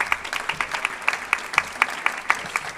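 An audience at a tourism event quiz applauds the winning groups, a small crowd clapping at moderate distance in a fairly regular pulse of distinct claps, with no talk over it.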